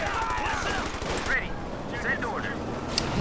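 Machine gun fire in the Company of Heroes video game, a rapid rattling burst at first, then scattered shots and battle noise, with a commentator talking over it.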